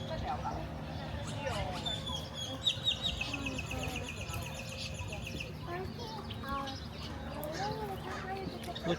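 Small birds chirp and cluck at the San Diego Safari Zoo bird showcase, a busy mix of tweets, trills and soft clucks beneath a continuous outdoor crowd murmur. People talk throughout.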